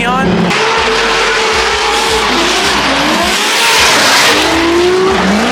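A 1000hp BMW and other drift cars slide at a night Formula Drift event, with loud continuous engine roar, rising and falling revs, and screeching tires close by.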